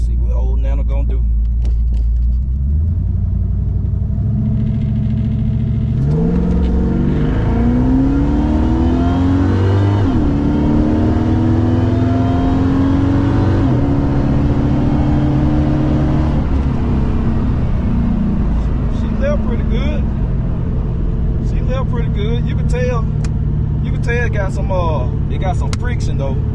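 A Regal drag car on slicks roars through a run, its engine revving hard and climbing through gears in loud sweeping pulls before easing off, with people talking over it at the start and end.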